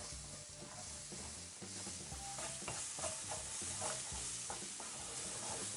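Utensil scraping and stirring rice ingredients in a pan for arroz a banda, with a steady sizzle underneath and faint clinks, moderately quiet and close, no voices.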